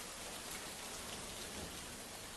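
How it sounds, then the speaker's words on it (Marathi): Heavy monsoon rain pours down in Mumbai as a steady, dense hiss of countless drops, even and unbroken through the short stretch, with no voices. "मुंबईसह राज्यात मुसळधार पावसाने हाहाकार केलेला आहे"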